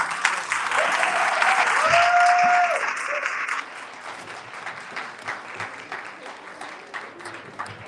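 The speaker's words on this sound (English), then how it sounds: "Let's get a round of applause, please, for these ladies and for all of our panels today." Audience applause after a women's panel on inclusivity at a live event, a dense, steady wash of clapping that swells through the first few seconds, then thins to lighter scattered claps; a brief tone cuts across midway.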